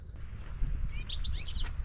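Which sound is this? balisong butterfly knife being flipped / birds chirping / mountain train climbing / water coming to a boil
birds chirping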